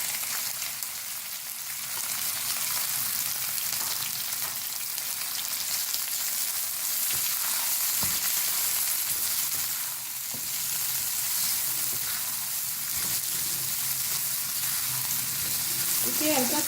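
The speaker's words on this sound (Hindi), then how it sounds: "इस ऑयल में हम अपने प्याज फ्राई करेंगे।" Chopped onions frying in hot oil in a pan: a steady, dense sizzle and crackle that runs unbroken for about seventeen seconds, with occasional stirring scrapes and no voices.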